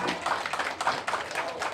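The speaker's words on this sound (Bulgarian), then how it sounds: "Аплодисменти за най-добрите танцорки!" Applause at a school prom in honour of the best girl dancers, a dense steady patter of many hands clapping, fairly distant and even throughout.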